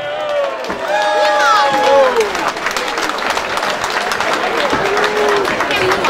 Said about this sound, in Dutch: Mag ik een geweldig applaus voor de voorzitter van de Stichting Elastieke Koers, Martin Hammer.